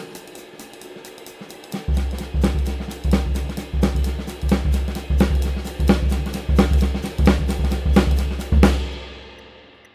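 A drum kit plays a hemiola passage with the hi-hat on all four, steady repeating kick and tom thumps under bright cymbal and hi-hat strokes, loud and close for several bars before ringing out.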